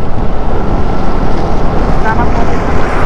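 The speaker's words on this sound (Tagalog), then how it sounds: "Ang lakas na buhos na ulan." A heavy downpour lashes a rider on a Vespa 150 during a road trip from Cavite to Kalibo, Aklan, making a loud, dense, unbroken roar mixed with wind buffeting.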